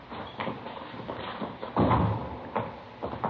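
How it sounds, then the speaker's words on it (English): A door opens and closes as a radio drama sound effect in a police series: scattered soft clicks and taps, then a solid thump near the middle, all fairly close and without talk. "Here, I'll get the door."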